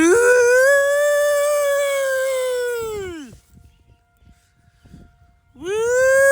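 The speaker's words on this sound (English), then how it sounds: "The sirens are going off, Sam." Outdoor civil defense tornado sirens wail in Union Grove, Wisconsin, with a long loud rising-and-falling tone that fades out, a quieter gap, then the siren swelling back up.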